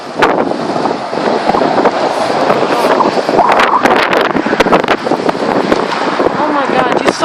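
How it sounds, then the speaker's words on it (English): Strong, cold gale-force wind buffeting a camera microphone, a loud continuous roar broken by sharp thumping gusts throughout, with no talking. "That wind just pushed my camera."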